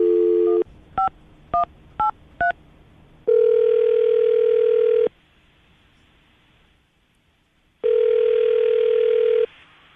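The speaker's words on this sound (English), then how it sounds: "I'm going to dial the phone number right now." A landline phone gives a dial tone, then four quick keypad tones are pressed, followed by two long ringback tones separated by a silent gap, clean and loud with no talking.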